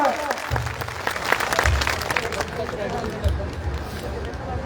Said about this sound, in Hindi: भाई जोर से तालियां हो जाए।